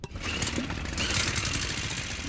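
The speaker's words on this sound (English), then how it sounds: "A leaf blower?" Cartoon leaf blower whirs loudly and steadily in an animated episode, a dense mechanical buzz that holds without pause for a couple of seconds, with no voices.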